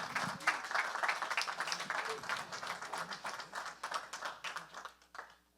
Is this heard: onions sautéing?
no